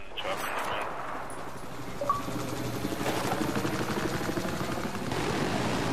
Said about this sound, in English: Chopper over here. That's a friendly chopper.